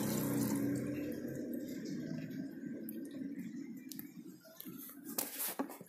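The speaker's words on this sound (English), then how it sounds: "Please keep filling the water." Water pours steadily into the windshield washer tank of a Maruti Suzuki Baleno, a faint continuous trickle and gurgle that thins out, followed by a few soft knocks and splashes.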